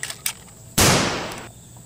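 A toy shotgun, the Extreme Shotgun, fires one loud, sharp electronic blast that rings out with a noisy tail lasting nearly a second, preceded by a few small clicks.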